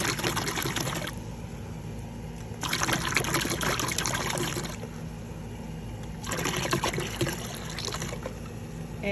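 Vinegar pours into a container in three separate streams, each a trickling splash lasting a couple of seconds with short pauses between, close and fairly quiet, no one speaking.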